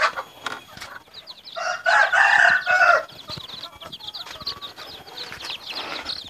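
Newly hatched chicks being raised without a mother hen, a dense flock of high, thin chirps and peeps running continuously, swelling loudest for about a second in the middle before settling back to a steady busy chatter, with no talking.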